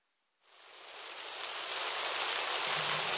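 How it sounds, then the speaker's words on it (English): Steady rain falls with a broad, even hiss that starts abruptly and swells slightly louder over a few seconds, close and continuous with no voices. "Aw, it's raining."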